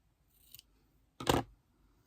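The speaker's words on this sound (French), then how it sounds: "Je vais les couper un petit peu plus petit." Scissors snip through paper pieces for a scrapbook art-journal collage: a faint short snip followed by one louder, close crisp cut, alone on a quiet table.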